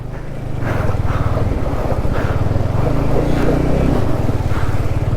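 A Yamaha R15 motorcycle ploughs through a deep water crossing on a Ladakh ride, its engine droning low and loud under continuous rushing splashes and wind buffeting.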